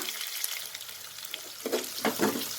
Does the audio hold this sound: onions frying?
yes